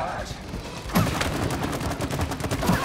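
Rapid gunfire in the co-op video game It Takes Two, a dense burst of shots running steadily throughout, with a sharp onset about a second in and brief player chatter mixed underneath.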